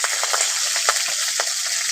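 Black cumin seeds and chopped green chili frying in a little oil for a fish and potato curry, a continuous close hiss and sizzle with small crackling pops.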